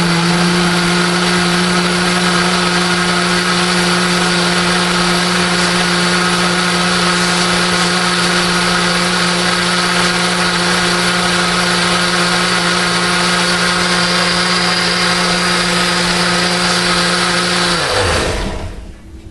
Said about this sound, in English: So we have some garlic and a can of diced tomatoes. And I'm going to puree.